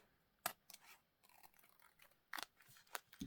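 Paper being trimmed with scissors in a torn-edge junk journal craft session: a few quiet, separate snips and crisp cuts spaced irregularly, close by and faint, with soft paper rustling between them and no voices.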